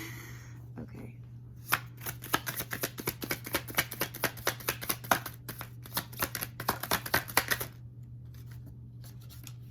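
Tarot cards riffled and shuffled by hand in a rapid run of crisp flutters and snaps, close and quiet, pausing briefly before a last few flicks.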